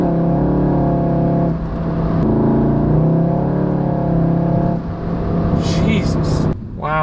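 A VW Golf GTI MK7 fitted with a pedal tuner at stage 3 and a JB4 on map 2, in race mode, revs and accelerates hard, its engine roaring loud and close with a few rises and dips, while a voice talks over it.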